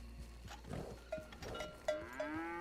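Cattle mooing in the Red Dead Online video game, with a Devon bull among the herd: several drawn-out moos in succession, close and clear, with a few faint clunks between them and no talk.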